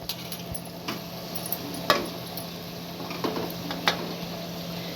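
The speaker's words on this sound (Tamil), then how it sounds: "இப்போ இந்த மீல் மேக்கரை நீளமாக நறுக்கியிருக்கோம், இதை போட்டுடலாம்" Sliced meal maker soy chunks go into a frying pan with a light sizzle and scattered utensil clinks and scrapes against the pan, close and fairly soft.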